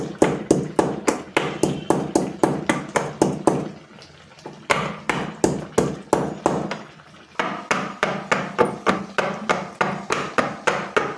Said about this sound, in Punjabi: ਆਪਾਂ ਇਹਨੂੰ ਕੁੱਟ ਕੇ ਇਹਦਾ ਪਾਊਡਰ ਬਣਾ ਕੇ ਲੈਚੀਆਂ ਦਾ ਪਾਊਡਰ ਬਣਾ ਕੇ ਪਾਉਣੇ ਆ